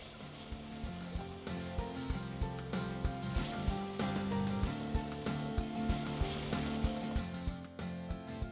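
Two falafel balls frying in hot oil in a college kitchen: steady close sizzling and bubbling with regular soft pops and clinks, continuous for over eight seconds.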